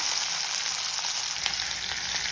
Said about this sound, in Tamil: வெங்காயத்தை சேர்த்து வதக்கிக்கலாம்.